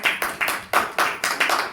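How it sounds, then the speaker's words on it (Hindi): Congregation at a church service clapping in unison, a regular rhythm of about seven sharp, loud group claps in under two seconds, with nothing else audible. "जोरदार तालियां बजनी चाहिए, कंजूसी की क्यों करा।"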